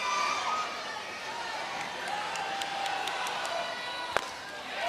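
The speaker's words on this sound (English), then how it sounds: "You hear the Phoenix City crowd and many others starting a Fear the Bow chant" Crowd at a Little League Baseball World Series game with Phoenix City fans starting a chant: a steady, distant stadium crowd roar with rhythmic clapping and faint shouting, under a commentator's voice.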